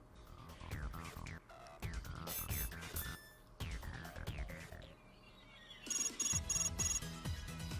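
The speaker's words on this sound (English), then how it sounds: "A phone call? That's rare." Phone ringing in the video game Hyperdimension Neptunia Victory, a synthetic ringtone repeating in bright bursts over game music, loudest near the end and with no talk.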